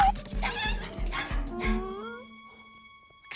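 A fluffy cartoon dog in an animated film yips and barks a few times in quick succession, then lets out a rising whimpering howl that trails off into quiet.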